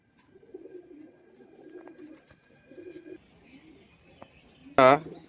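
A caged female Madras pigeon flutters and stirs, with soft low cooing murmurs through most of the stretch and a sudden sharp burst of movement near the end, all quiet and close.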